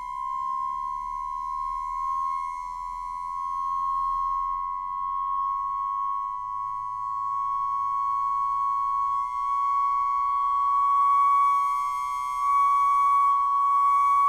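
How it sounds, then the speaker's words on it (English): A steady, pure electronic tone holds throughout, with faint pulsing interval beats beneath it that speed up and fade into a clean, continuous pitch. "those beats get faster and faster until they turn into a musical tone"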